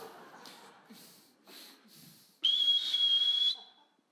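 A single sharp, steady whistle blast lasting about a second cuts in after some breathy, faint snorting sounds, loud and close, with no talk.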